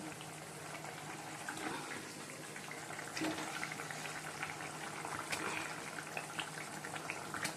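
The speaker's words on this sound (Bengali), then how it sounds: "যে ঝোলটা ফুটে গেছে, এবার চলো ডিমগুলো দিয়ে দিই" A pot of curry broth boils on the stove, with a soft, steady bubbling simmer that stays quiet and constant throughout, no voices.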